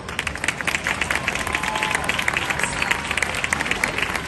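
An audience bursts into loud, continuous applause for a singer as she joins another singer on stage; dense clapping, fairly close, with scattered cheers mixed in.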